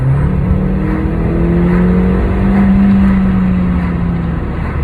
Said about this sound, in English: I'll let you have a listen to the exhaust.